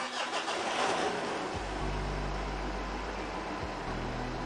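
A Mitsubishi Triton with an EGR valve fault cranks briefly and its engine catches, then settles into a steady low idle that stays loud and close, with a second short cranking shift near the end.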